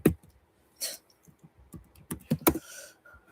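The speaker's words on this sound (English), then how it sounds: "I'm actually typing in pigeon poop meningitis." Someone types on a computer keyboard in irregular quick bursts of close, crisp key clicks, with short pauses between them.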